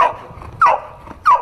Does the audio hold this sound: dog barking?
yes